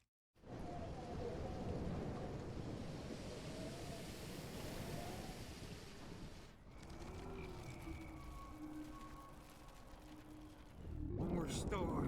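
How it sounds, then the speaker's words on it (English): A thunderstorm in the video game Life Is Strange: a dense, steady roar of rain and wind that dips briefly midway and then swells again sharply at the end. "More storms."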